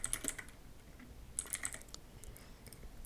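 Quiet typing on a computer keyboard: two short bursts of quick key clicks with a brief pause between, close up and alone.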